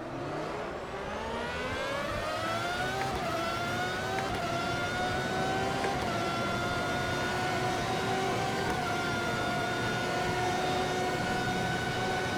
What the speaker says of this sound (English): So you can hear the cars flying by in the other straightaway